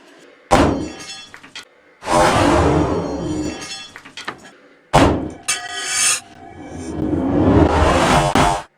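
Glock pistol shots hitting a 1055 carbon steel machete in a destruction test: a few loud, close impacts, each a hard crack followed by a long metallic ringing and clatter, with no talking.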